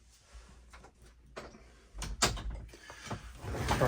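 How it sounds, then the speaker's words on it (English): A door swings shut indoors with a few soft knocks and rattles building to a firmer close near the end, nearby and moderately loud with no talking. "had to close the door"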